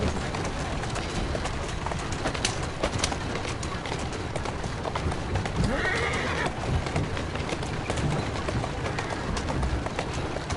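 A horse neighs and its hooves clip-clop steadily in Assassin's Creed Syndicate, with the rumble of a carriage in a Victorian London street scene, birds chirping and faint voices in the background.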